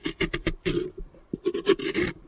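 A hand tool gouges and scrapes flesh from the inside of a Halloween pumpkin being carved, giving close, repeated rasping strokes in short bursts with brief pauses between them.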